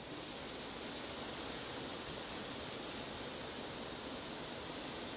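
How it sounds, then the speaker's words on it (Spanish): A small waterfall on a river with dark stone beneath cascades steadily, a dense, even broadband rush that holds constant throughout with no voices. "Una cascada más bien pequeñita"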